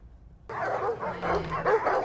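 A dog in a film soundtrack lets out several close barks and yips that break suddenly out of near silence, mixed with other movie sound.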